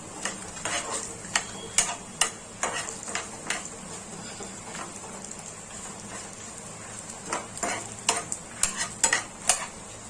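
Urad dal and chana dal with red chillies roasting in oil while being stirred for a sambar masala, giving a steady soft sizzle broken by repeated sharp clicks and scrapes of a spoon against the pan.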